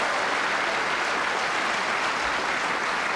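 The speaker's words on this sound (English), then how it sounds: "Well, the applause says it all." Snooker crowd at a 1988 World Championship quarter-final applauding: steady, dense clapping filling the hall, even and sustained without a break and with no voices over it.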